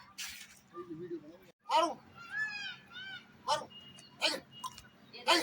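A pet dog makes short whimpering yips and excited little vocal sounds at close range, scattered between bursts of people talking.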